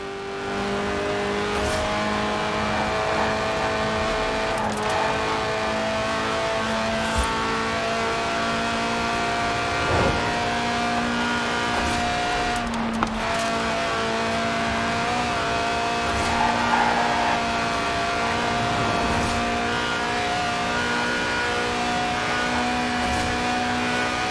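A Lotus with a 1.8-litre, 190-horsepower engine revving to 8,000 rpm in Forza Horizon 4, a loud, steady high-pitched engine note held throughout with gear changes and brief tire noise, no talk.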